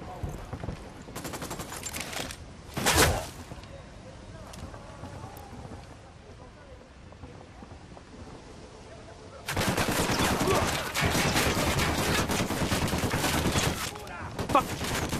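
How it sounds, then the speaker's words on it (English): Bursts of automatic gunfire in Ghost Recon Wildlands: a dense volley early on, a sharp loud crack near three seconds, then sustained heavy firing from about ten seconds to the end, with quieter ambient stretches between. "Opening fire!"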